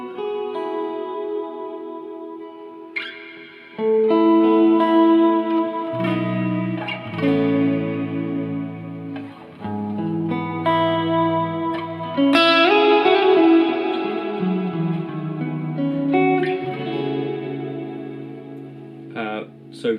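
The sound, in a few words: guitar through Boss RV6 reverb pedal, modulate setting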